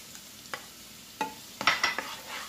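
Onion slowly softening in a pan, with several short scraping stirs and a light sizzle, the strokes close and fairly faint, clustered toward the end.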